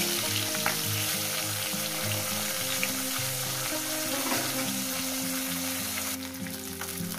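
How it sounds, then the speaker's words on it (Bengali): Pieces of katla fish fry in a pan with a steady, close sizzle that carries on unbroken, while faint clinks and stirring sounds rise now and then above the crackle. "মাছগুলোকে আমি উঠিয়ে পাল্টে সুন্দর করে ভেজে নিয়েছি"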